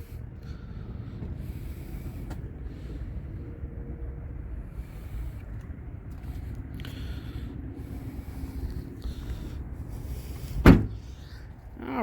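The trunk of a silver 2022 Toyota Corolla LE pops open outdoors with a single sharp latch thunk near the end. Before it comes a long stretch of steady wind rumble and faint background noise.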